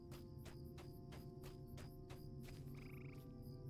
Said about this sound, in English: Another wild hill toad